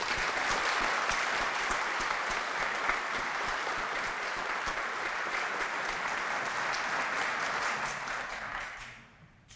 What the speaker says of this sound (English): So please join me in a round of applause for them.